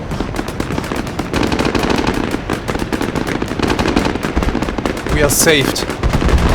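BMP infantry fighting vehicles fire their guns at enemies in a war video game, producing rapid, loud bursts of gunfire that run almost continuously, with someone briefly speaking over the shooting.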